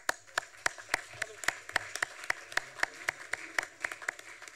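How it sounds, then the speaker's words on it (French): A small audience at a Cergy city council meeting in a hall claps steadily, the individual claps crisp and distinct in a rhythmic stream that swells slightly before easing off. "Vous pouvez applaudir."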